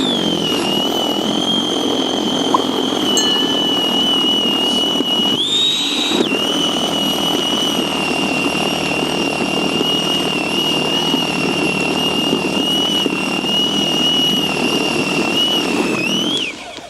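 A Litheli 40V cordless battery snow thrower runs steadily while clearing fluffy snow, a loud continuous electric whine with a brief pitch change partway through before it winds down at the end.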